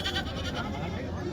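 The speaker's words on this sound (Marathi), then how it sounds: "गावरान शेळी आहे." A native village goat at a livestock market gives a brief, fairly faint bleat against background market noise.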